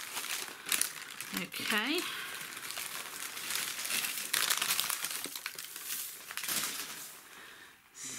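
Cardboard packaging being ripped open and crinkled while unboxing cacti and succulents from a nursery shipment, close crackling and tearing with a brief squeak, and a voice speaking over it.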